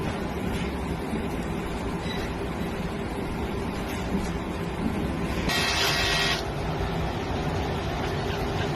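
An inkjet printer runs a print head cleaning cycle: a steady mechanical whir and hum throughout, with a brief brighter, higher-pitched whine about two-thirds of the way in, heard up close with no talking.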